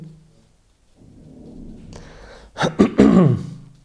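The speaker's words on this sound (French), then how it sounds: "il faut que je me racle la gorge, je ne sais pas pourquoi" Someone clears their throat up close, with a low rumbling buildup followed by two or three harsh, forceful rasps.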